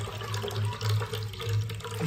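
Water runs steadily from an opened tap, a continuous rushing splash with slight surging, close by and without talk.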